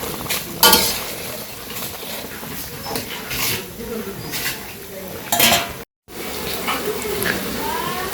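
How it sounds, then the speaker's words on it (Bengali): Bitter gourd and potato fry in a pan after fish in a village kitchen, a soft sizzle under clinks and scrapes of a metal spatula against the pan, with brief talk nearby. "আর এই যে পাশে মাছ ভাজা হয়ে যাওয়ার পরে করলা ভাজি দিচ্ছে, আলু আর করলা।"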